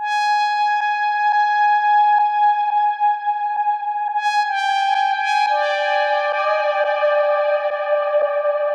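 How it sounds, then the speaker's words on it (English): Sustained horn-like synth tones ring out, each note trailing repeating echoes and a wash of reverb, shifting to a richer chord midway. "I gave it a ton of reverb, a ton of delay before the reverb as a send."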